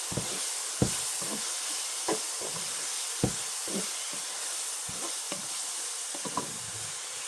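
Garlic sizzles in a pot with a steady frying hiss, broken by repeated scraping stirs of a utensil at irregular intervals, close and fairly loud, with no voices.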